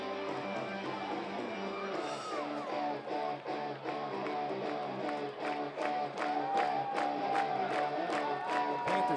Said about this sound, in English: It is a good turnout. Very good crowd here tonight.